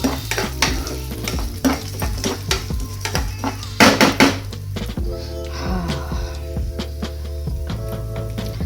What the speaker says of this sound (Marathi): तुम्ही भाजून घेऊया, थोडंसं डाळ ना लालसर व्हायला पाहिजे